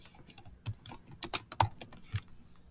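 Quick, irregular clicks of typing on a computer keyboard, light close-up keystrokes in short bursts with brief pauses, no voices.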